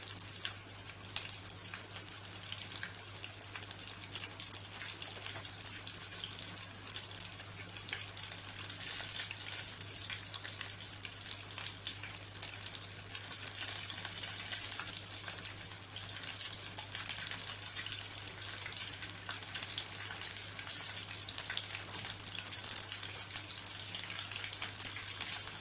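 Food frying in hot oil in a home kitchen: a steady, soft sizzle and crackle continues for about 25 seconds over a low constant hum, with no talking.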